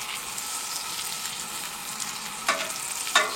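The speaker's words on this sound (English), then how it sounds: "Can you hear that sizzle?" Food sizzling and frying on a hot stove in a tent during a snowstorm, a steady close hiss with two brief louder crackles near the end.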